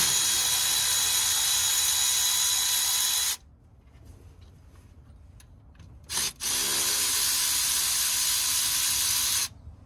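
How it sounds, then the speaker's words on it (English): A power tool runs loud and steady on a 1962 Chevrolet pickup, a high hissing whir that cuts out for a few seconds, blips briefly, then runs again before stopping. "Power tools are so great."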